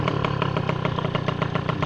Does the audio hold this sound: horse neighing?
no